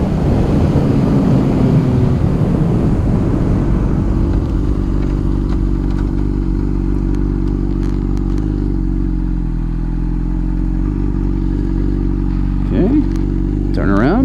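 A 2009 Honda CBR600RR engine drones loudly while riding, holding a steady rising note through a long stretch with wind rush, close and continuous; a person talks briefly at the start.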